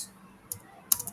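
A few faint, sharp keystrokes on a computer keyboard, spaced irregularly in a quiet room, with a short cluster of clicks near the end.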